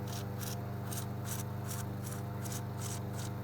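Short rhythmic bursts of hissing spray as cleaner is sprayed through a Briggs & Stratton 500 series carburetor port, about seven evenly spaced pulses, over a steady low mechanical hum close by.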